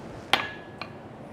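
A small hammer at a forge strikes twice in the quiet, a sharp ringing tap first and then a softer second tap about half a second later.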